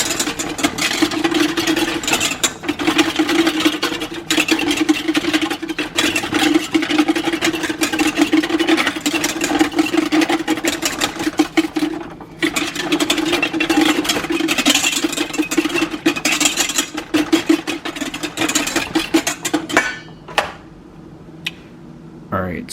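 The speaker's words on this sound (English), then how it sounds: "Here's the rapid whisk." An electric rapid whisk mixing an egg drink runs continuously and loudly with a steady whirring drone and dense rattling texture for about twenty seconds, then cuts out, leaving quieter clicks.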